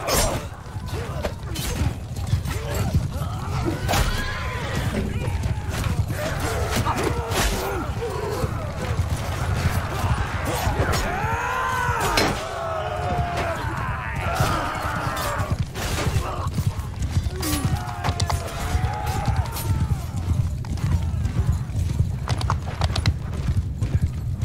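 Galloping horse hooves in Mount and Blade 2 Bannerlord battle: a continuous, close, rapid clip-clop runs throughout, with occasional whinnies and clattering mixed in.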